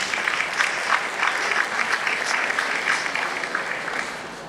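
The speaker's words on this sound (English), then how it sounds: "So a big round of applause to all of the leaders here." Audience applause at a Latino community forum, a dense, steady wash of clapping from a crowd that holds strong throughout and tapers slightly at the end.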